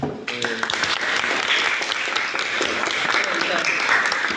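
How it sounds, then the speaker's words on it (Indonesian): Students in a classroom give a lively round of applause, dense steady clapping from many hands close by that stays loud and even throughout. "bisa berikan aplaus ya boleh teman-temannya"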